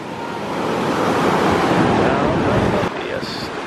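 Ocean waves break and wash up on Laguna Beach, a broad surging roar that swells then drops off abruptly, with wind buffeting the microphone and a brief voice near the end.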